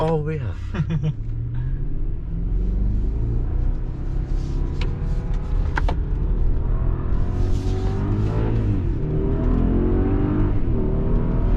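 A 2021 Mercedes-Maybach GLS600 engine revving up to about 6,200 rpm, a loud, steady, rising rumbling roar heard from inside the vehicle that swells and climbs throughout, with voices faintly underneath.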